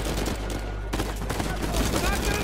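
Rapid, loud gunfire from a gun in the video game Uncharted 4 crackles in dense bursts under music and game sound, with a brief pause partway through.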